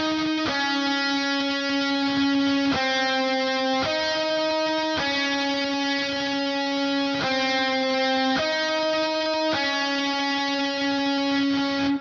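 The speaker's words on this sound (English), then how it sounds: "So the lead riff sounds like this." Deathcore lead riff on distorted electric guitar at 230 BPM, a loud, steady stream of sustained distorted notes shifting pitch every second or so, played alone without talk.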